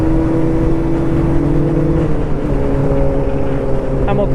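A car accelerates up a one-way mountain road to about 50, its engine droning steadily and loudly from inside the cabin with a constant hum and road noise.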